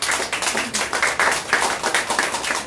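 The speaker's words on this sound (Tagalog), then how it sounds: "Palakpakan natin ating Panginoon." A church congregation claps together in praise during a worship service, producing steady rhythmic rounds of hand claps that fill the room with no speech over them.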